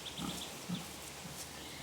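Pigs kept outdoors year-round in a woodland pasture on the Sava floodplains of Croatia grunt softly a couple of times against a faint, hissy outdoor background.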